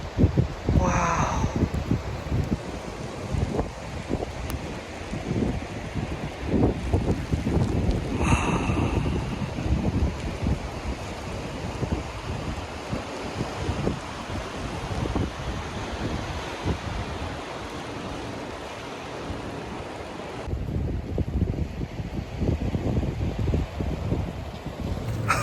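Surf and wind on the East Sea coast of South Korea during snowfall, a continuous broadband roar of waves with gusty microphone wind noise, steady and fairly loud throughout, with no talking.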